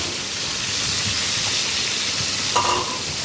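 Rohu fish pieces fry in a pan, giving a steady, even sizzle like light rain, with a short clink of a utensil near the end.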